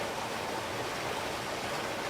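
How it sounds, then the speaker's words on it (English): A waterfall beside a creekside cabin gushes in a steady, even broadband roar, distant and constant with no other sounds. "the sound of gushing water"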